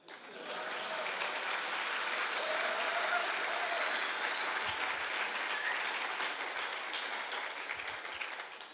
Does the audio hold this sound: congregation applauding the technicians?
yes